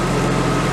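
A Nissan RB25DET engine with its stock exhaust idles close by, a loud, steady, even low rumble with no other sounds.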